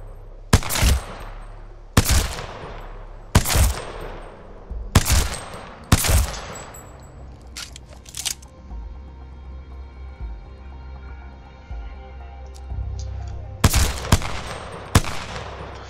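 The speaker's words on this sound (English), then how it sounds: "So this one here is obviously single shot, which is the P2020." Apex Legends P2020 pistol fired single shot: loud, sharp reports in an uneven rhythm, five in the first six seconds, a pause with faint ringing tail, then a few more shots near the end.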